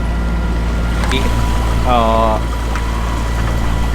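Sailboat motoring under engine through calm, windless water, a steady low drone of the motor running throughout with a soft wash, and a voice briefly speaking over it midway.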